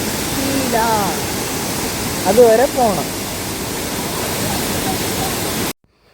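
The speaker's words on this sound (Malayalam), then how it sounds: "അവിടെ വെള്ളച്ചാട്ടത്തിൻ്റെ സൗണ്ട് കേൾക്കാൻ തുടങ്ങി" A forest waterfall roars steadily as a broad, constant rush of water, fairly loud throughout, while people talk briefly over it before it cuts off at the end.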